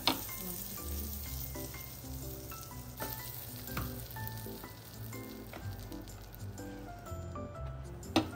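Butter sizzles and crackles on a hot tawa griddle, a steady close frying hiss with occasional clinks and scraping stirs over it, no talking.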